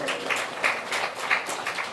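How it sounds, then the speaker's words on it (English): An audience at a Hindu temple celebration at Bhuvaneshwar Mandir applauds, a steady, fairly close wash of many hands clapping for two seconds. "Let's give Shri ji a round of applause."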